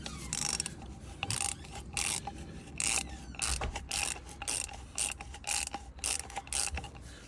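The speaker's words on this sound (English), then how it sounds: "Wind the cutter in again for full revolution." A pipe cutter turning around a Ford Motorcraft oil filter, wound anticlockwise as it cuts into the metal casing, gives a steady run of close, rhythmic ratcheting clicks and grinding scrapes, quiet and without speech.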